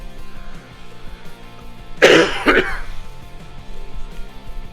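A person coughs twice in quick succession, close and fairly loud, against a quiet background hum.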